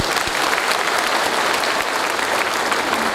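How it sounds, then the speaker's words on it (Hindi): A crowd at a business testimony event gives loud, sustained applause for the trainers from Ranchi, dense continuous clapping that fills the room at steady volume throughout. "रांची के सारे ट्रेनर के लिए मैं चाहूंगा बात जोरदार ताली बजाइएगा"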